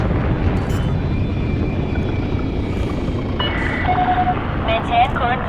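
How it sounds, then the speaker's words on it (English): A spaceship's landing gear deploying in Elite Dangerous, an Asp Explorer: a loud, steady engine rumble fills the whole stretch, with brief mechanical tones and a synthetic voice layered near the end. "Landing gear deployed"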